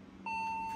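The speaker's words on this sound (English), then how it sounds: "So one beep, probably memory." A vintage computer powering on gives a single steady POST beep, clear and close, sustained through to the end over a low electrical hum.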